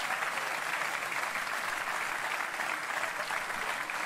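An audience at a stand-up comedy show breaks into sustained, even applause, filling the whole moment without any voice over it.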